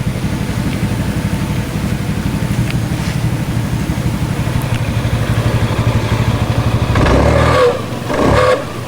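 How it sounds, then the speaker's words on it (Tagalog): Honda Zoomer X scooter with a faulty, noisy CVT revs steadily, a loud close engine drone with a high whine running throughout, then a couple of sharper throttle blips near the end. "tuwing umaarangkada tong motor na to ay nagkakaroon ng kakaibang sounds, yung parang humihiyaw"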